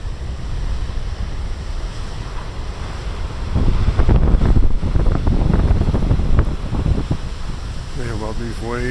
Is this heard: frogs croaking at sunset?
no